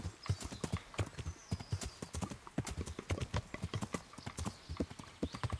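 Horse hooves clip-clopping at a steady rhythm in the medieval game Kingdom Come: Deliverance, close and clear, a dense run of sharp hoof strikes with no talk.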